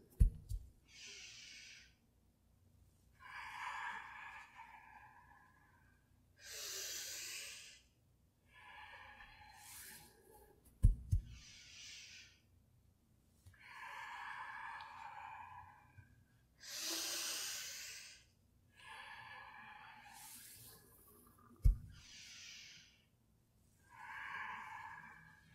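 Rhythmic breathing during a Kundalini kriya exercise, a steady alternation of audible inhales and exhales in regular bursts with short pauses between them, close and soft, with no talking.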